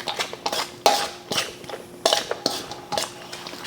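Crab pasta salad with mayo stirred in a bowl, a utensil clinking and scraping against the dish in irregular, close strokes with a few sharper knocks.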